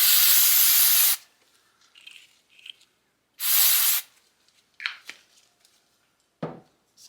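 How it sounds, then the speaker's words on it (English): Aerosol can of brake cleaner sprayed on a 2012 KX250F rear shock during a rebuild, two loud hissing blasts about a second each, separated by soft clinks and handling noises. "So I'll give it one last quick blast of brake clean here."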